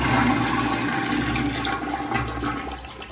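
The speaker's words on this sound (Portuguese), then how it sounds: "Vamos dar a primeira descarga agora." A newly installed toilet flushed for the first time gives a loud, steady rush of water that runs for the whole stretch and eases slightly toward the end, with no talking.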